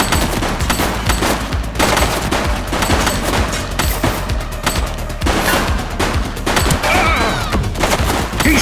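Sustained gunfire from a shooting suspect in The Precinct, a police video game: dense volleys of shots and bangs overlap continuously, loud and close, with no voices over them.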